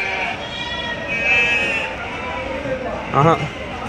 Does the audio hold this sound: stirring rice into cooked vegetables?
no